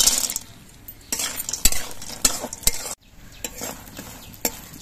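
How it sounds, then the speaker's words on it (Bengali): Sun-dried lentil dumplings fry in hot mustard oil, a soft sizzle beneath sharp scrapes and clinks of a spatula stirring them in the pan, close up with a brief pause midway. "এবার ডালের বড়িগুলো ভেজে নিচ্ছি।"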